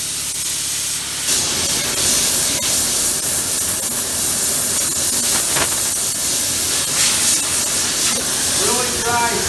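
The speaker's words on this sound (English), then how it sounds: "Really dry steam." A gas-fired steam cleaner, used on brewery equipment and machine parts, sprays dry steam in a loud, broad, steady hiss that runs almost the whole time, with faint rumbling underneath.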